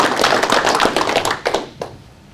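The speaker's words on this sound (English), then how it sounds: "if you all give a round of applause for Mr." A small seminar audience gives a round of applause for the speaker Ed Angleton, a burst of dense, close clapping that thins into a few scattered claps and dies out.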